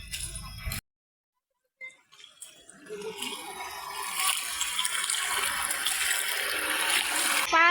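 Cold, shallow river water splashes and rushes as people wade across on foot along a walking route; after a brief quiet gap, the churning water grows steadily louder and fuller, close by.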